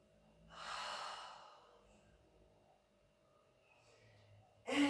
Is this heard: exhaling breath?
yes